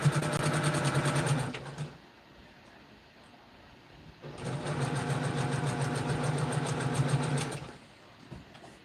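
A sewing machine stitches quilt patches in two long, steady runs of rapid mechanical whirring, separated by a pause of a couple of seconds, close and loud with no talking.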